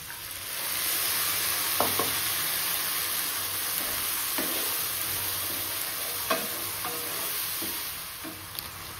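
Chopped onions frying in a pan with spice masala and Kashmiri red chilli powder, a steady close sizzle running throughout with occasional scrapes and knocks of a stirring spoon against the pan.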